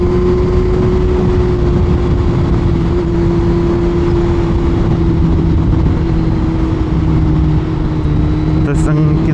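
A Kawasaki Z1000 motorcycle with dual exhaust, its engine a steady loud drone with a fixed hum throughout, heard close up while riding as a voice speaks over it.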